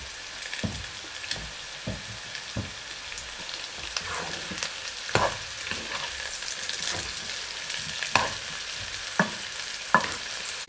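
Pork lechon frying in a pan for Miki noodles guisado, giving a steady broadband sizzle broken by sharp crackles and pops every second or so, close up with no talking.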